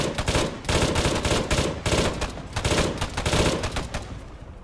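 Rapid bursts of automatic gunfire in a video game, loud and close, fired in several long volleys separated by brief pauses.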